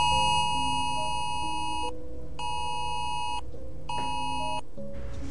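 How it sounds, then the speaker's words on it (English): A government emergency alert sounds from a phone as a loud, piercing harmonic tone in three long bursts separated by short gaps, over a low background hum. "The government just sent out a massive signal to every phone in America."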